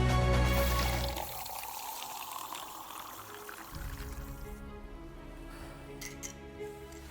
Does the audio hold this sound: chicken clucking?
no